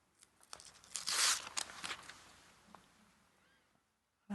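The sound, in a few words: paper backing peeled off fusible web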